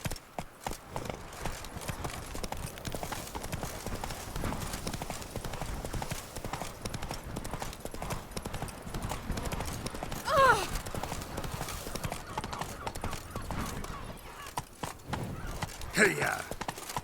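Roach, a horse in The Witcher 3, gallops in a steady, rapid clip-clop of hooves that runs throughout, with a couple of louder thuds and a rider's voice over the hoofbeats.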